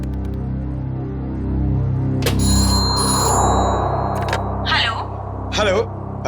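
A telephone rings after a number is dialed: a short burst of electronic ringing tones, with voices speaking around it.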